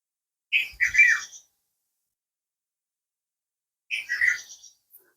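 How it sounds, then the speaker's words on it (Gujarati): Two short bursts of high, bright chirping separated by a few seconds of silence, soft and somewhat distant, like small birds calling in the Dhorijhar Khirsara forest beside water dripping from rock. "પક્ષીઓનો કલરવ ઝીણો ઝીણો"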